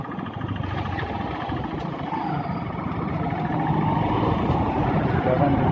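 Motorcycle engine running steadily up close while riding through a temple gateway, a continuous low rumble that grows slightly louder toward the end, with wind noise over it.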